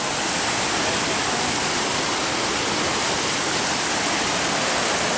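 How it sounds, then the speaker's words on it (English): Water pours steadily at the foot of Helen Hunt Falls, a dense, loud, constant rushing roar that fills the whole clip with no voices or breaks. "this is the bottom of the waterfall"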